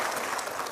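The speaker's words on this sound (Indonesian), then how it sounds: "kita berikan aplaus ya" Studio audience applause on a talk show, a dense, steady patter of clapping that holds at an even level throughout a brief moment, with no voices over it.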